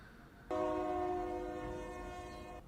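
A train horn blares as a train bears down on a truck stuck on the tracks on Grand, starting suddenly as one long, loud, steady blast that slowly fades slightly.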